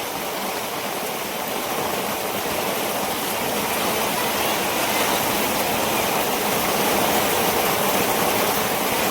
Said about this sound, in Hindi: बारिश जोर जोर से होने लगी है